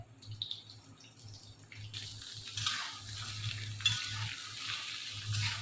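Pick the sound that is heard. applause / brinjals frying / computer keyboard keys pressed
brinjals frying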